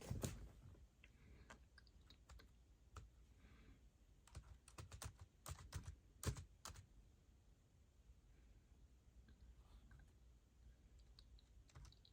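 Quiet, close key clicks come from typing on a cheap eBay keyboard made for an iPad, arriving in uneven bursts of taps with short pauses between them.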